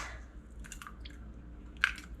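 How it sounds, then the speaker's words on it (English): A couple of eggs are cracked into a bowl for breading, heard as faint, quiet shell taps and a small crisp crack near the end against a low room hum. "in here, I'm going to do a couple eggs"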